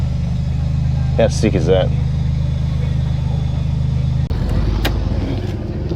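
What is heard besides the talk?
lowrider Toyota Hilux engine pulling up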